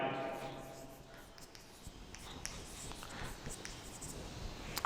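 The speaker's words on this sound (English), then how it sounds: "I am going to write for that" Chalk or pen strokes on a board during a chemistry lesson come as short scratchy bursts over a low background hum, fairly faint and close.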